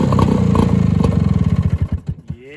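A vintage barn-stored snowmobile engine catches and revs, a loud close clattering two-stroke roar that chugs unevenly, then slows into separate pops and sputters as it dies away.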